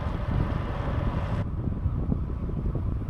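Loud, steady wind rumble buffets the microphone while riding a bike trail in Austria, the Thaya Runde cycle route along a former railway line, with no speech heard.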